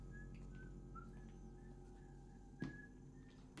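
Tuneful whistling from a character in an episode of the TV series The Tomorrow People, a short series of clear held notes with a brief thump partway through, faint and alone under a low background hum.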